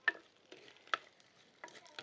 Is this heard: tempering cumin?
yes